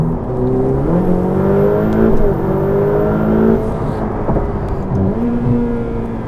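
A Ferrari F8 Tributo's engine pulls hard under acceleration, its rising and shifting harmonics loud and close from inside the car, with a brief dip and renewed climb near the end.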